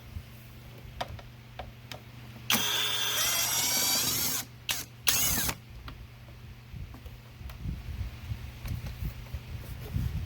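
A power drill spins out screws from a Jeep Cherokee air filter housing in a few short, loud whirring bursts, separated by quieter ticking and handling noises close by.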